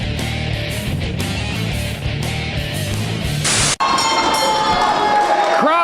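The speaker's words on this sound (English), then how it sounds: "Crowd here is hyped up for tonight's main event." Crowd at a live pro wrestling show ahead of the main event, a loud continuous roar of cheering and shouting with a sharp momentary cut near the middle, then bright tonal noise over the dense crowd.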